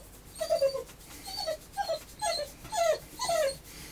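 A young dog whimpers and yips in a series of about seven short, rising and falling cries, close and fairly loud with brief pauses between them.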